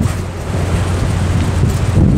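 Strong typhoon wind at a seaside fishing spot under a bridge on Chuja Island roars loud and steady into the microphone, with a deep rumbling buffet and possible surf underneath and no voices.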